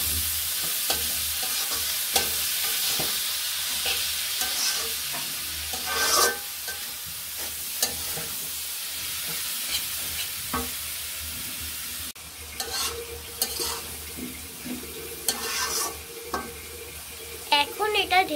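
Shredded cabbage with egg sizzles and hisses in a hot pan as it is stirred, a steady frying crackle broken by scraping, clanking utensil strokes, close and moderately loud.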